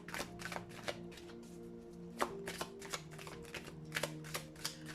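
Oracle cards shuffled and drawn during a pick-a-card reading, a steady run of close, crisp riffling and snapping card clicks over a faint tonal background, with no talk.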